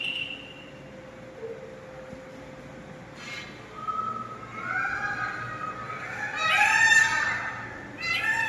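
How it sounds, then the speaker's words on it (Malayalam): Junglefowl calls out, a short crowing burst rising over quiet outdoor background hum, fairly distant. "അത് കാട്ടുകോഴി, കാട്ടുകോഴിയാണ് അത്"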